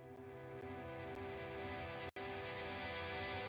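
A single guitar strum of a song's final chords played in reverse, swelling as a steady sustained chord with one brief dropout near the end, heard alone with no talk.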